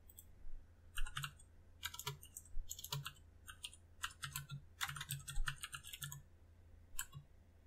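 Computer keyboard keys tapped in quick irregular bursts, close and crisp, as Java code is typed, with short pauses between clusters and no talking.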